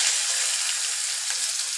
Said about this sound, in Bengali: এবার আমি পেঁয়াজ কুচি দিয়ে দিচ্ছি